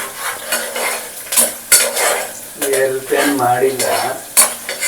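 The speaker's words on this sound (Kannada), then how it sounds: "ಈಗ ಜಸ್ಟ್ ಬಂದು ಅಲ್ಲಾಡಿಸ್ತಾ ಇದ್ದಾನೆ ಅದನ್ನ ಅದನ್ನ ಅಂದ್ರೆ ಈರುಳ್ಳಿನ ಸ್ವಲ್ಪ ಫ್ರೈ ಆಗಿದೆ" Onions for an oil-fried eggplant curry are stirred in a hot pan, with steady close sizzling broken by repeated scraping and clinking strokes of a spatula against the metal.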